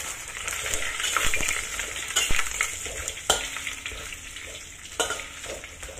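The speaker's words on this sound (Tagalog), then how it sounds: "Mainit na yung ating kawali, kaya i-fry na natin ang pork." Pork sizzles and fries in a hot wok, with steady crackling broken by a few sharp stirring scrapes and clinks of a utensil against the pan, close and fairly loud.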